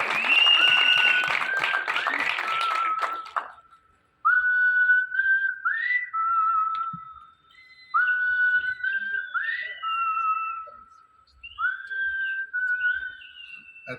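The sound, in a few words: audience applause and whistling at press conference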